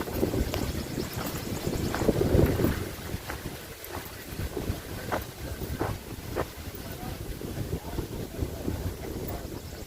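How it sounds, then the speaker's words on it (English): Wind blows steadily outdoors across the Gettysburg battlefield near Seminary Ridge, a continuous rushing roar with buffeting gusts against the microphone, swelling strongest in the first few seconds and then settling into a steady blustery noise. "look at the wind's blowing up"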